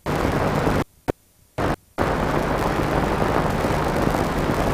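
A 1942–43 anthrax trial bomb bursts over a test field where sheep are tethered, heard as loud roaring blast noise broken by a brief silence with a single sharp pop before the rumble resumes.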